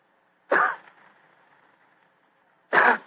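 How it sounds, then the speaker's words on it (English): Two short, sharp coughs about two seconds apart, close and fairly loud, with near silence between them. "he gave what he thought was a discreet cough"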